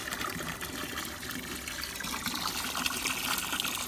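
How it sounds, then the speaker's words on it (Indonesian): Muddy water flushing out of a home water filter during backwash, a continuous steady gushing rush, loud and close, with no talk over it. "Airnya seperti ini ya, masih banyak lumpur yang keluar dari filter ini."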